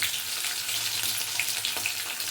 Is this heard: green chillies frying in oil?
yes